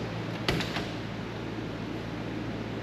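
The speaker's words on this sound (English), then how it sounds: "These doors open all the way." A camper van's sliding side door rolls open with a short bright clatter and a few quick rattles, then a steady hum fills the rest of the moment with no talking.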